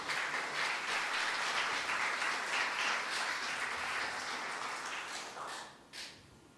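A church congregation applauding, dense sustained clapping that fills the room, holding steady and then tapering off into a few last claps.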